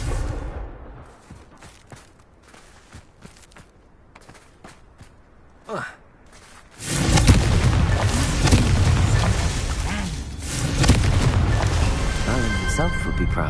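A Confringo blasting spell goes off in the video game Hogwarts Legacy, a heavy booming explosion that swells into a loud, rumbling roar after quieter footsteps and a short whoosh, with voices around it.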